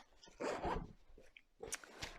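The zipper on a fabric pencil case is pulled open in two short, close rasping runs separated by a brief pause, quiet and alone.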